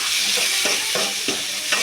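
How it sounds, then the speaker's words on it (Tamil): Chopped onions frying in hot oil for a soya chunk gravy, with a steady sizzle and several soft scraping stir strokes spaced through the short stretch, close and fairly loud, no voices. "வெங்காயத்தை நல்லா நம்ம கிண்டிக்கலாம்."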